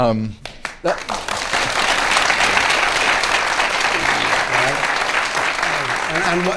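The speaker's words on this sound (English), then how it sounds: "that was the easiest applause I've ever earned in my life" A studio audience at a televised political debate breaks into loud, sustained applause after a brief pause, the dense clapping holding steady for several seconds with voices mixed into the crowd noise.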